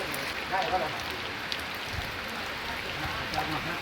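Steady rain falls during a storm amid flooding, a dense continuous hiss of drops with a few brief faint sounds on top and no clear talk.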